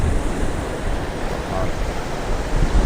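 River water courses through a 135-year-old British-era water mill in Haryana, turning its grinding stones; a dense, unbroken rushing roar fills the foreground with no clear talk.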